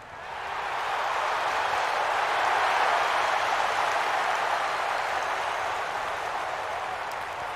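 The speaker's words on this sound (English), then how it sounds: "Love the crowd noise." Golf gallery crowd in EA Sports PGA Tour, a steady wash of applause that swells in over the first second and holds evenly at moderate volume.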